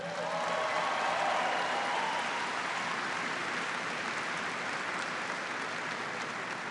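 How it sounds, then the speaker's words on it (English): Troops at a base in Afghanistan clap steadily for a musical act, a broad, even wash of applause from a large crowd that holds at the same level throughout. "Give them a big round of applause."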